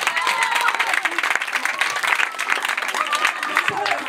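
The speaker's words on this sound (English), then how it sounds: "I think you should give your school a round of applause." Loud, dense round of applause from a school audience at a menstrual hygiene kit donation event, sustained clapping close by with crowd voices mixed in.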